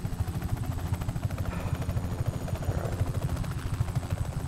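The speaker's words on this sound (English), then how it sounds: "Break my freaking helicopter." A helicopter in Just Cause 3 flies close by, its steady rotor thump pulsing loud and continuous under a broad engine whine throughout, with no talking.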